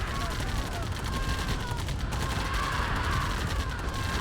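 Artillery and other gunfire in a C&C Tiberian Dawn ladder match crackles steadily under a mix of battle noise, staying fairly faint and continuous throughout.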